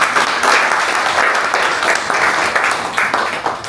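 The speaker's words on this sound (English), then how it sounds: "A big round of applause for this thing." An audience at a real estate panel discussion in Jamaica gives loud, continuous applause that holds steady, then begins to thin and fade near the end.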